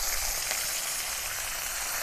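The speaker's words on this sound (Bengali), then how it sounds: "পেঁয়াজ কুচি আর রসুন ভালো করে ভেজে নেব" Chopped onion and garlic fry in hot mustard oil, a steady close-up sizzle that hisses evenly without pause.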